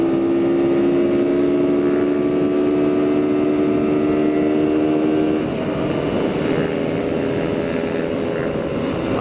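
A T-Rex 160 YX pit bike engine revs with a steady, buzzing tone, then pulls away and fades as it rides off, leaving a rougher mixed engine noise in the background.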